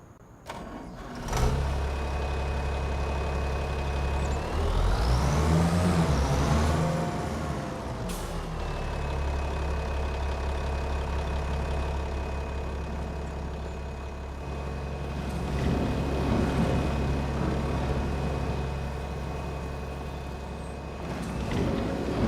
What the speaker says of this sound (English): Tractor's over here.